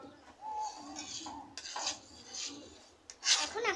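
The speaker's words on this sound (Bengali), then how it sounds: "এখন আস্তে আস্তে নেড়ে" A spoon slowly stirs tea in a pot, giving soft scraping swirls with light metallic clinks against the pot's side. A brighter clatter comes near the end, all heard close and fairly quiet.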